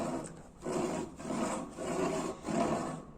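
Hand saw cutting wood to form a tenon, with steady back-and-forth rasping strokes, about five rhythmic passes, close and fairly loud with no talking.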